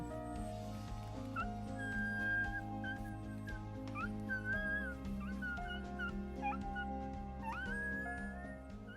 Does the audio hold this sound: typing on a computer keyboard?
no